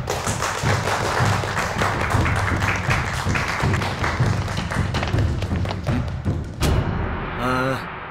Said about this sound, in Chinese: 我们就用热烈的掌声欢迎咱们的武术团队